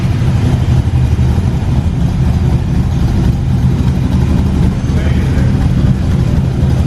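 An AC Cobra with a straight-pipe exhaust rumbling steadily nearby, a loud, dense low engine roar held at a constant level throughout.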